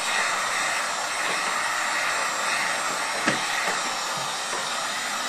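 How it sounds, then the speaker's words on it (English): A heat gun blows steadily over film on an I-bar sealer to shrink-wrap a product, a close, constant airy roar with broadband hiss and one faint brief tick, no voices. "now we're ready to take it and apply heat to shrink the film down"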